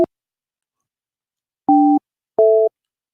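A telephone call tone sounds in short, separate electronic beeps, each a steady two-note pulse followed by silence, loud and clear with no voices.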